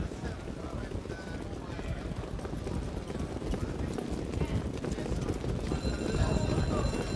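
Trotters' hooves clip-clop at the start of a harness race at the Meadowlands, a dense steady rumble of hoofbeats under crowd and wind noise, continuous and fairly loud throughout.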